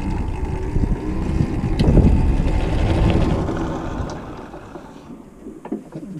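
Electric cycle kart accelerating on a speed run, a whining drivetrain and heavy wind rush swelling loudly past the microphone, then easing off and fading, with no talking.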